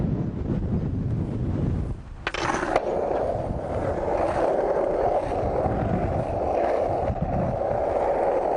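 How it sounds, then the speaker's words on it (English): A skateboard rolls downhill with a constant gritty wheel rumble and wind noise, broken by a short scraping burst as a foot drags on the pavement to brake. "That's brake footing. That's how you stop with your foot."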